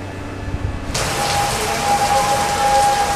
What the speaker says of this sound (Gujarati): લાંબા વિરામ બાદ શહેરમાં આજે સવારથી ગાજવીજ સાથે ધોધમાર વરસાદ શરૂ થયો છે